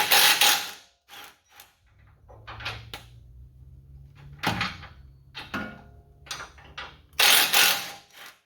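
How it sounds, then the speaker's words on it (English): Stock bolts on a Ford Bronco V6 crossmember are worked loose with 15 mm and 18 mm wrenches, giving intermittent metallic clanks, scrapes and ratcheting clicks separated by short pauses, close and fairly loud. "Just pull the stock bolts out."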